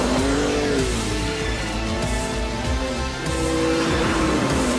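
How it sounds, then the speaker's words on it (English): A 2023 Ford Ranger Raptor midsize off-road pickup with selectable exhaust modes runs its engine loud and close, a sustained throaty exhaust drone with rising and falling revs throughout, no speech. "it's worth making a noise about the selectable exhaust modes"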